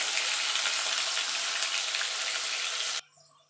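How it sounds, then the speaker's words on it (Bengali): Potatoes fry in a pan for a dal-based shukto, giving a steady, loud, close sizzle that runs alone for about three seconds and then cuts off abruptly, leaving only faint low kitchen noise. "এবার আলুটা দিয়ে আমি আলুটা একটু মিনিট খানিক একটু ভাজা ভাজা করে নেব।"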